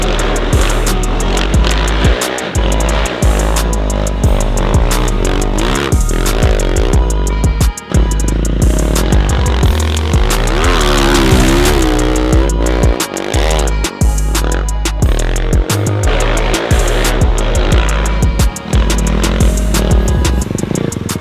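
A snow bike engine roars steadily while riding through deep backcountry snow in Idaho, loud and close throughout, with its pitch rising and falling as the throttle changes.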